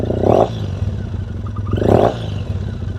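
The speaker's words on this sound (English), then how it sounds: "One of the most just absolutely gorgeous sounding motorcycle" A 2005 Triumph T100 motorcycle engine idling with a low, throbbing rumble, blipped twice to brief revs, heard up close.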